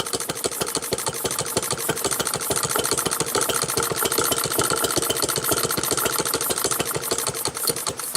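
A Maytag model 72 washing machine engine idles after a cold start, a loud, fast, even chain of popping firing pulses that runs steadily throughout with no talk.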